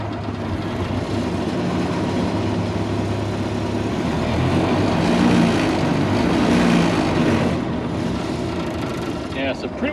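The engine of a 1929 Ford Model A (AA) truck, just restarted after decades of sitting, idles slowly with a low, uneven rumble and rattling vibration, running steadily and loudly throughout while someone talks over it.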